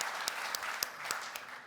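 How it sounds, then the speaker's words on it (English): Soft, distant audience applause at an event for a Ducati Scrambler concept, a steady wash of clapping with a few sharper individual claps standing out. "So, big applause to her."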